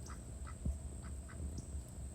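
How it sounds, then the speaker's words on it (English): Faint, distant clucking from chickens, scattered over a steady background hum. "You can hear the chickens."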